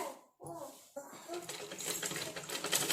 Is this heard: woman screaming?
no